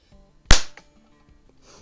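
A Marksman air pistol dry-fired once, giving a single sharp, loud snap that decays quickly, followed by a faint small click, then near silence.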